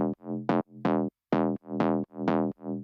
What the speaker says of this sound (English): This is just the high bass layer.